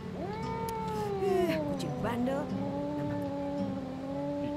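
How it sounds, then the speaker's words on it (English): Cat in the DreadOut 2 video game meowing and caterwauling, a long drawn-out wavering yowl with sliding pitch, close and fairly loud, sustained across the whole stretch. "I'm not touching this cat."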